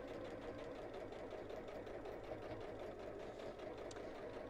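Sewing machine stitching fabric around a curve while an evening bag is made, a quiet, steady whirring hum of continuous stitching with no pauses.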